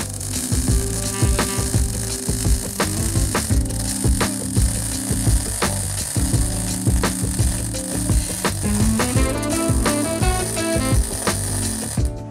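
A Titanium MIG 170 welder lays a MIG bead, giving a loud, steady electric crackle and buzz with rhythmic pulses throughout, close and continuous.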